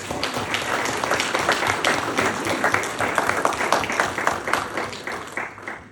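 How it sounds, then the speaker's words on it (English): A crowd applauds with dense, steady clapping that holds for several seconds before thinning out slightly. "Clap for yourselves."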